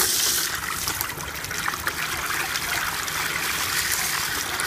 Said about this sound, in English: So the water has nearly run off.